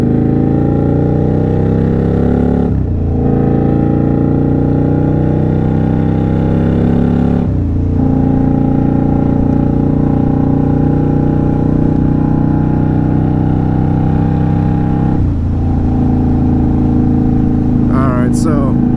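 An Indian Scout Bobber motorcycle with an aftermarket exhaust accelerates steadily, its loud engine note rising and then dropping sharply at three gear changes before climbing again.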